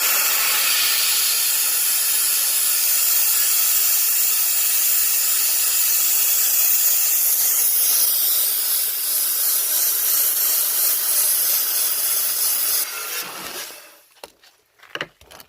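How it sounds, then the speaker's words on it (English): Homemade sand blaster running continuously with a loud, steady high-pitched hiss of blasting air and grit as it strips a label and adhesive, cutting off abruptly near the end to a few clattering knocks. "Let's see how it does with that up pressure, if it'll take the label and the adhesive off"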